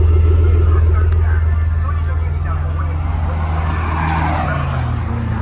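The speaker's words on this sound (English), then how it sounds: "muffler sound. Sounds good." Steady, loud exhaust drone from a 2000 Nissan Skyline R34 GT fitted with an aftermarket muffler, a low continuous rumble heard close by throughout.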